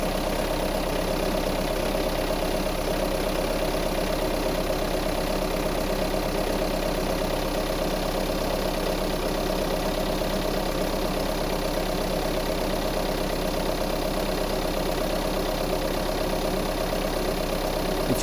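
A Mahindra Roxor engine idles at minus 16 after an extreme cold start, a steady, continuous, close mechanical rumble with no pauses and no voices.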